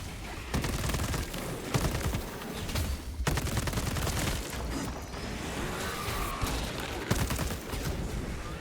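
Dense, sustained gunfire from a secondary weapon in the video game Space Marine, loud and continuous with layered bursts, impacts and mechanical clatter filling the whole stretch.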